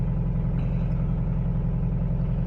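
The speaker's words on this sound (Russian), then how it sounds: "Такой звук двигателя происходит каждое утро при запуске двигателя." A Mitsubishi L200 engine idling steadily at a cold morning start, with a continuous low rhythmic knock running through the close, loud drone for the whole stretch.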